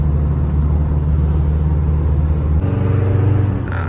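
A remapped car engine runs steadily on a customer test drive, a continuous low rumble and whir inside the cabin with no clear revving peaks, loud and constant throughout.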